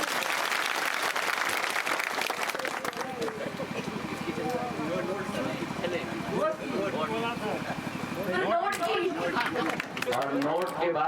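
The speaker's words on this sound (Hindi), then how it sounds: "ताली बजा बजा।" A crowd claps at an outdoor Lok Sabha election rally in Kachhowa, Shivpuri. The dense applause is loudest at first, then thins and keeps going under a man's amplified speech.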